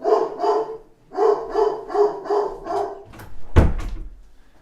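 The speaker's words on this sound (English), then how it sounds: "Okay, that's my dog saying hello to you guys." A pet dog barks indoors: two quick barks, a pause, then a run of five loud, evenly spaced barks, followed by a sharp thump like a door closing.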